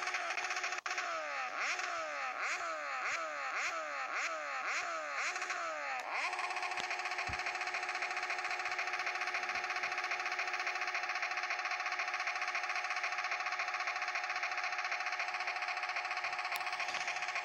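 A Kawasaki Z1000 motorcycle with a modified exhaust in a video game revs in a rapid series of about ten rising-and-falling bursts, then holds a loud, steady high-rpm drone, with popping crackles near the end.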